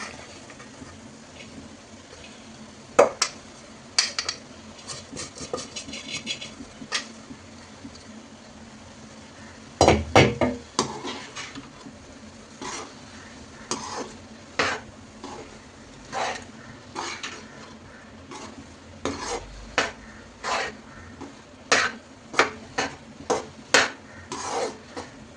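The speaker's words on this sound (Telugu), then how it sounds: "మనం పొడిగా చేసుకున్న రైస్ని అయితే దీంట్లో వేసుకొని కలుపుకుందాం" Cooked rice being stirred into brinjal masala in a pan for vangi bath: a steady run of clinks and scrapes from a spoon against metal, with one louder clatter and otherwise moderate, irregular taps throughout.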